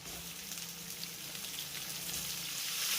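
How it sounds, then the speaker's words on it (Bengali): Sweet pumpkin frying in oil with already-fried potatoes gives a steady, fairly faint sizzling hiss that keeps going and swells slightly toward the end. "মিষ্টি কুমড়োটাকেও একই রকমভাবে লাল করে ভেজে নেব"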